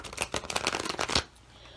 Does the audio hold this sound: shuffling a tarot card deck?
yes